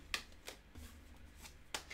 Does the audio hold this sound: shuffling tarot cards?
yes